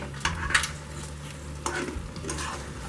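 Fried chicken pieces for Andhra chicken 555 are stirred in a pan on a low flame, with a steady soft sizzle and a few sharp scraping strokes of the spoon close by.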